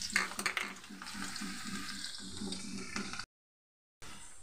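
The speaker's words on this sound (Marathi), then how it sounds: "कढईमध्ये तेल टाकलंय मी." Garlic sizzles in hot oil in a wok, a steady crackling fry near the microphone with a few utensil clinks at the start, then a brief cut to silence before the sizzle resumes.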